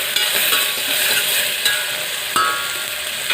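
Tomatoes sauté and sizzle in a pan for a potato aloo tahiri, a steady hiss of frying with a few metallic knocks from a spoon stirring against the pan, close and continuous with no talking.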